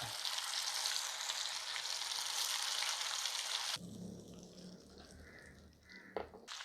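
Chicken pieces frying in oil give a dense, loud sizzle that suddenly drops to a softer, bubbling crackle with a few clinks of a utensil near the end.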